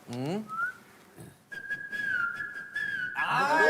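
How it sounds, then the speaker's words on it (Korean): A single person whistles a melodic tune in a clear, sustained tone, with a short breathy note before it and brief sounds around the edges. "휘파람으로 연주하면 우리가 무슨 노래인지 맞춰볼까?"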